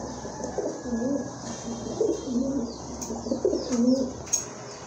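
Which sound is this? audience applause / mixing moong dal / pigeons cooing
pigeons cooing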